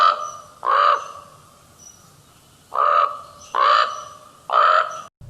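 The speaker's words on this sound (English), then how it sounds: "ravens channel their inner frog and lowly croak" A raven gives four low, hoarse, froglike croaks, spaced unevenly and fairly close, standing alone against a quiet background.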